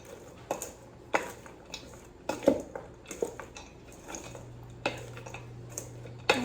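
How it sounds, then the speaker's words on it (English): Ranch snack mix of cereal, chips, cheese crackers and almonds tossed in a bowl, producing irregular dry crunchy rattles and clicks in short bursts at close range, with a low hum underneath and no talking. "We're gonna mix that on up."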